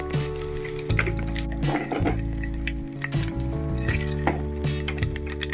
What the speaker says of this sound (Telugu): ఇప్పుడు తీసేసుకుని తాలింపు వేసుకుందాం